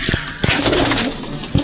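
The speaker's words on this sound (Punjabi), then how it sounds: "ਦੂਸਰੀ ਕਬੂਤਰੀ ਆਪਣੇ ਕੋਲ ਆ ਬੈਠੀ ਕਾਲੀ" Pigeons, including a black female, coo softly nearby in a brief burst of low, throaty calls, with a few dull thumps at the start and end.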